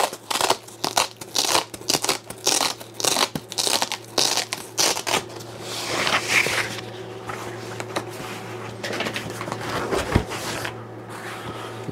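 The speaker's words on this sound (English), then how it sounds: "I cut the bag down one side to make this easier to get out of here." A big plastic bag is cut and crinkled around the packaging of an xTOOL S1 laser, giving loud rhythmic crunching bursts at first, then looser rustling and crackling close by, with a low hum underneath.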